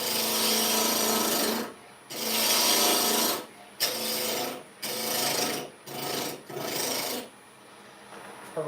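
A Crown Tools Carbide Pro rasp files the corners of a piece of wood in close, loud rasping strokes, six bursts separated by brief pauses.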